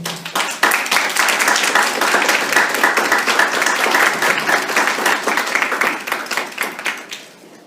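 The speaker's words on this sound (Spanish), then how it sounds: "Un fuerte aplauso, por favor." Sustained applause from an audience at a panel discussion, dense clapping that holds steady for several seconds before tapering off at the end.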